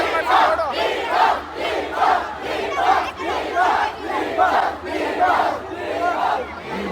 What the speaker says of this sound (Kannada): ಎಲ್ಲ ಜೋರಾಗಿ ಕಿಚ್ಚ ಕಿಚ್ಚ ಕಿಚ್ಚ.